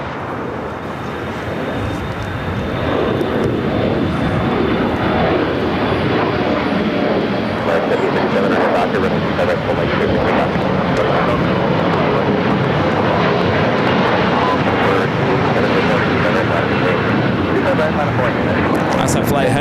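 An airliner rolls down runway 25 left at LAX, a steady, loud broadband engine roar that fills the whole stretch without a break, with voices talking over it.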